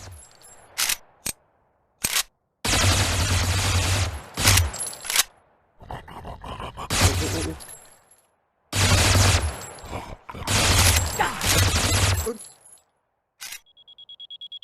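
Gunfire in the VR shooter Triton VR, with loud bursts of rapid automatic fire and sharp single shots in several long volleys, separated by short gaps, and a thin electronic tone at the end.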